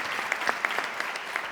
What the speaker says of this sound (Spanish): Hace tiempo que no aplaudís,